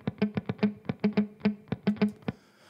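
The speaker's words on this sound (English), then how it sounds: "I have a muted guitar." A palm-muted electric guitar plays a quick, choppy rhythmic riff of short plucked notes, dry and close, with no one talking.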